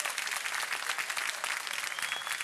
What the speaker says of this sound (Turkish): Alkışları şöyle duyalım.